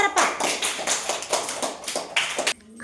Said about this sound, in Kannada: ಚಪ್ಪಾಳೆ ತಟ್ರಪ್ಪ